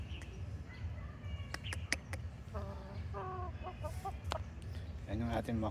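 A McLean and Blues cross rooster, a yellow-legged McLean father and Blues mother, gives a series of short, close clucks and low calls, spaced irregularly over a quiet background.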